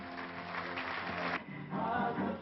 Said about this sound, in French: tout le chapiteau, comme il se doit, a applaudi.